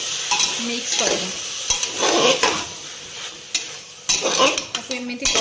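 An Odia-style mutton curry is stirred and mixed in a pot, with a spoon scraping and clanking against the metal in irregular bursts over a soft sizzle, close and fairly loud, with no speech.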